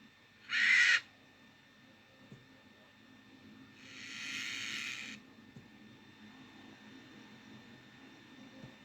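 Bird calls used as a sound effect for a cartoon horror story, two separate bright chirping or screeching bursts, one short near the start and a longer one a few seconds later, over a faint low background hum.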